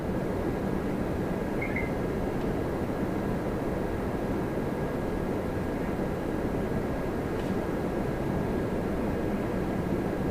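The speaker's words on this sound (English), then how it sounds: "Oh, the 747 is coming in." Boeing 747 airliner approaching Toronto Pearson on the downwind leg, a steady broadband roar of distant jet engines that holds evenly throughout with no voices.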